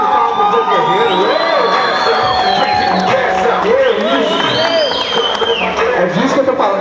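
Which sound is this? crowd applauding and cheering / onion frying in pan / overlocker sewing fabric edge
crowd applauding and cheering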